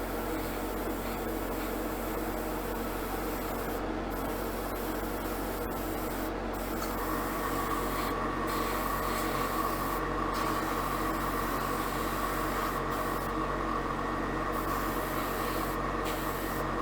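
Media blasting inside a Jaguar E-Type body shell produces a steady, loud hissing roar that runs unbroken throughout, with brief dips where the blast stream shifts.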